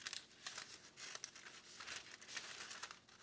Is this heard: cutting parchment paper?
yes